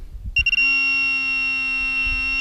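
A Pro-Find metal detector sounds a solid, continuous tone while a nail touches a coin. The loud tone starts after a few brief handling bumps and then holds steady to the end.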